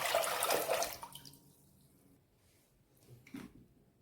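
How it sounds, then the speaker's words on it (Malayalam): About two litres of water pours into a heavy-bottomed pot, a close splashing gush for roughly a second that trails off into faint drips and a soft clunk, with no talking. "നമുക്ക് അടി കട്ടിയുള്ള ഒരു പാത്രത്തിലേക്ക് 2 ലിറ്റർ വെള്ളം ഒഴിക്കാം."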